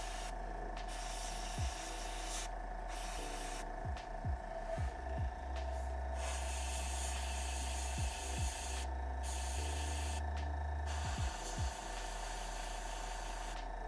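An airbrush spraying paint onto a miniature, soft hissing bursts that start and stop irregularly over a constant low hum, close and quiet, with no speech.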